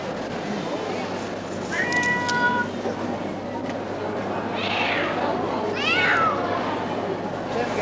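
A cat meows in clear, rising then falling cries, about three distinct calls over a steady background hiss.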